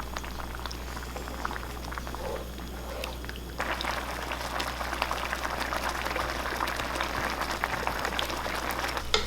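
Seblak ingredients bubbling in a pot, a steady soft simmer with small pops and crackles that grows a bit livelier partway through, alongside a low constant hum.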